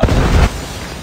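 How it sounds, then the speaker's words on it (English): A predator missile strike in Call of Duty Mobile lands as one loud, close boom, a heavy blast that cuts off abruptly after about half a second and leaves a dull rumbling tail. "Hostile predator missile inbound."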